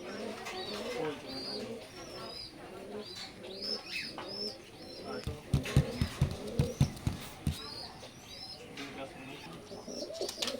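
Oman bloodline teddy pigeons coo softly in a loft, repeated low rounded calls with a cluster of louder, pulsing coos midway, mixed with chirping birds in the background.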